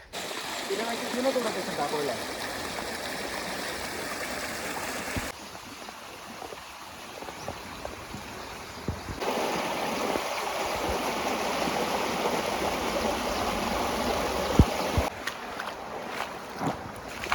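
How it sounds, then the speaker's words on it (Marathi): A strong stream of water rushing beside a farmhouse near a small waterfall makes a continuous broadband roar that shifts in level partway through, with voices talking over it. "ह्या साईडला पाण्याचा फोर्स जास्त आहे"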